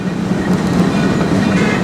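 A Shay #9 locomotive and its cars roll along the Georgetown Loop Railroad, giving a loud, steady rumble of wheels on track that continues without a break.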